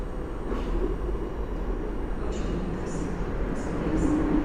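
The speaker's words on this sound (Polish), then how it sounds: "A za chwilę na tor trzeci przy peronie drugim powinien wjechać Intercity Sobieski z Wiednia." Intercity Sobieski train from Vienna pulling in at Warszawa Centralna station, a steady low rumble and hum of the arriving train in the hall, with faint hisses above and a voice briefly audible.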